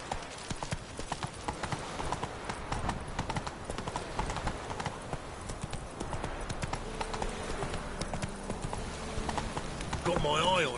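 Horse Roach galloping in The Witcher 3 video game, a steady rapid clip-clop of hooves throughout, close and continuous, with a brief whinny-like sound near the end.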